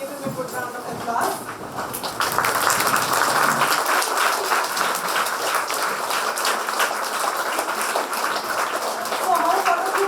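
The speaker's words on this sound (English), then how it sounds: "please give standing ovation to him for all his time and give him a good round of applause." An audience gives a standing ovation, with quieter scattered clapping and rustling at first swelling into sustained loud applause from a large crowd, with some shuffling and faint voices mixed in.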